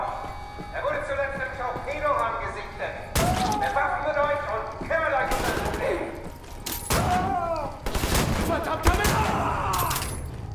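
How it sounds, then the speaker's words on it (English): Shotgun blasts in Wolfenstein: The New Order, several loud booming shots spaced irregularly amid in-game shouting and combat noise, with someone talking over them. "Regular shotgun shells, please."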